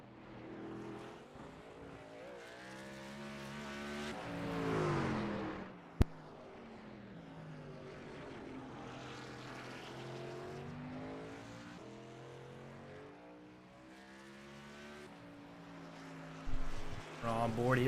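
Race truck engine on track at Sonoma Raceway in an iRacing Truck Series session, revving and shifting with rising and falling pitch sweeps, running under a commentator's voice.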